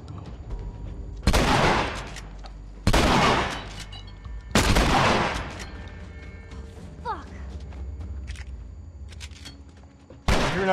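Shotgun blasts in The Last of Us boom loudly four times at uneven intervals, each a sharp crack with a long decaying tail, with mechanical clicks and creaks between shots.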